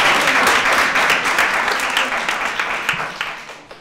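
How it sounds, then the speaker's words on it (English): An audience at a specialized high school admissions information session claps together in a loud, dense burst of applause that gradually thins and fades over a few seconds. "First, I want to applaud everyone who is successful"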